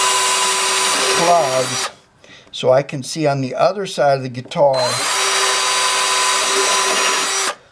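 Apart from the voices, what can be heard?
power drill drilling through plugs on a guitar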